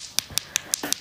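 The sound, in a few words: tapping a hard Russian black lollipop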